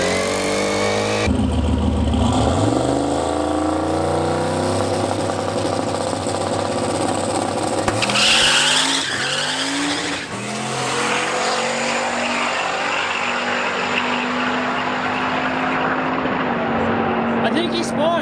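A boosted drag race car roars loud and steady at the strip, its engine note climbing and shifting as it makes a pass, with voices talking over it.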